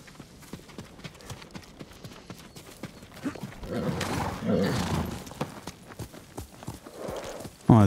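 Horse hooves clip-clopping at a steady walking rhythm while riding in the samurai game Ghost of Tsushima, moderately close, joined midway by a louder swell of ambient game sound.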